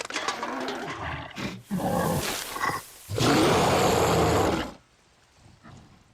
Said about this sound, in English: we have a Rager